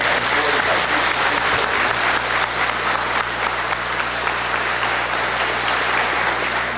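An audience at a public hearing with farmers applauds, a dense, continuous burst of many hands clapping that stays loud and even from start to finish, with faint murmuring underneath.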